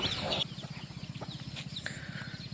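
A native country chicken clucks in soft, repeated low bursts, fairly close, with faint birdlike chirps above.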